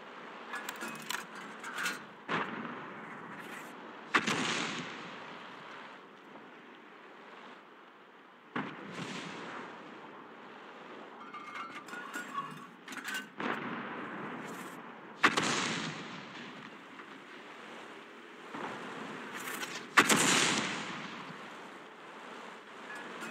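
FV304 self-propelled gun firing in a video game, several heavy booming shots spaced several seconds apart over a hissing, surf-like background, each blast sharp and loud then fading.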